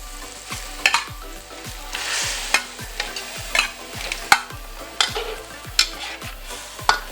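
Tofu sizzles and fries in coconut milk with salt while a utensil stirs it, each scrape knocking against the pan in a steady rhythm of about two strokes per second over a continuous close hiss, with no talking.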